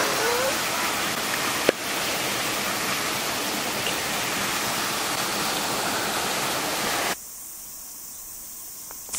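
Steady broadband rush of a waterfall pouring hard and close, used as a natural shower, running continuously before cutting off abruptly near the end to a much quieter background.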